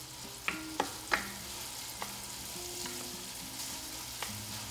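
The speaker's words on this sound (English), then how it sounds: "I'm stirring it constantly because I don't want the garlic to burn" Garlic and shallots sizzle in pork fat for Spanish-style white beans, a soft steady crackle with several sharp utensil clicks against the pan as they are stirred, close and fairly quiet with no voices.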